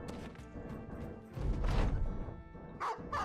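Dog barks mixed with thudding, crashing hits as a dog attacks in the video game Battle Brothers, several sharp yips and impacts in quick succession with no talking.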